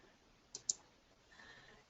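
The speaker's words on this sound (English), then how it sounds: "double click" A computer mouse double click: two quick, faint, close clicks in a quiet room, followed by soft background hiss.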